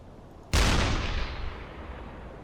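A submarine deck gun in the UBOAT game fires a single loud, sudden blast at a ship, followed by a long rumbling decay that fades over two seconds.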